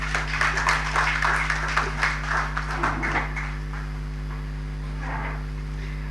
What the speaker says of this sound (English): Honorable Roland Roy deserves a better round of applause than that